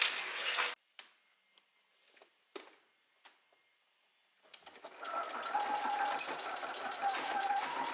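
A sewing machine whirs in a fast, continuous run of stitches over lace on fabric, preceded by a few clicks and short taps of setup.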